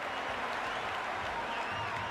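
Virtual stadium crowd at a Cricket 26 match cheering and applauding in a steady, dense roar that holds throughout with no pauses.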